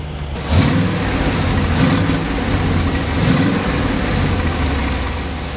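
A 1965 Chevrolet Corvette Stingray pro-touring car with an LS-1 engine accelerating hard on the road, a loud, continuous engine roar with rising revs, heard up close from start to finish.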